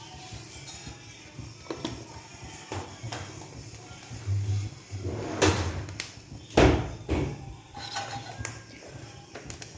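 Mustard seeds pop in hot coconut oil in a pan on the stove, giving scattered sharp crackles and pops at irregular intervals over a low background hiss.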